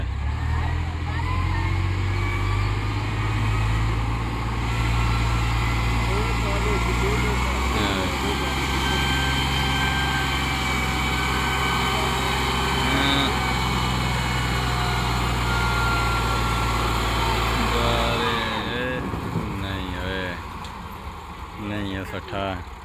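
Tractors pulling loaded trolleys up a slope labour with a loud, steady diesel drone and occasional revs, and voices talk beneath the engines.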